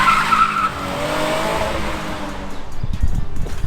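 Cars and trucks pass along a busy street in the historic Kenton area of North Portland, Oregon, a loud close whoosh of tyres and engines swelling and fading, with a squeal at the start and more traffic rumble after.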